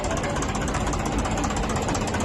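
An old tractor engine idling close by, a steady, loud chugging knock with an even rhythm throughout.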